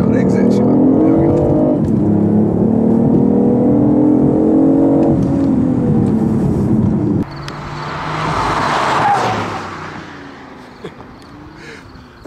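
A fast car accelerates hard on a race track, its engine climbing in pitch through several gears before a shift break and a rushing, whooshing pass, loud and close with a driver talking over it.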